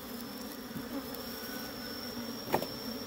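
Honeybee colony droning steadily at the hive, a continuous low hum of many workers with a brief louder buzz as a bee passes close, no talk.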